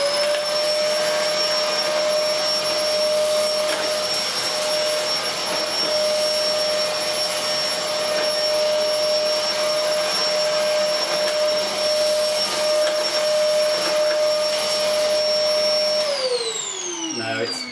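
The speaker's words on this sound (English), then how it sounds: "switch on the suction motor." Electrolux Sanitaire upright vacuum cleaner with its suction motor running on the lowest setting over a hard floor, a loud steady high whine that holds for about sixteen seconds and then winds down as it switches off.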